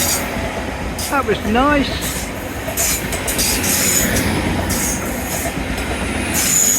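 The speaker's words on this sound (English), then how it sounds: "Hello, happy train, thank you." A train runs along a railway on a seawall, its wheels squealing briefly and its carriages rumbling steadily past at close range, with wind noise on the microphone and a person speaking briefly over it.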